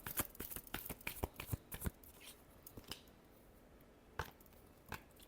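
Tarot cards being shuffled: a quick flurry of crisp riffling snaps close up, thinning into scattered single flicks and a few final taps, with no voices.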